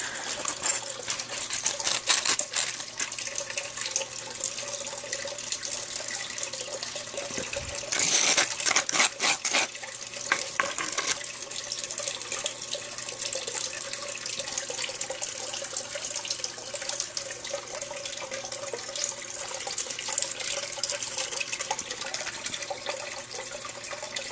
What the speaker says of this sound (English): Get a little bit of water so I can finish washing that out there.